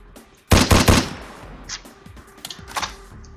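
Semi-automatic gunfire in a shooter video game: a loud burst of several rapid shots up front, followed by fainter scattered single shots trailing off.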